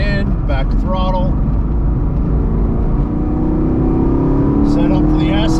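A 6th gen Camaro's engine droning loud and steady on a road course lap, pitch rising gradually as it accelerates, with someone talking over it.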